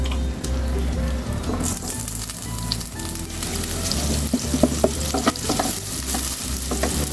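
Chopped onions fry in hot oil in a pan, giving a continuous loud sizzle with occasional crackles and stirring scrapes, no voices.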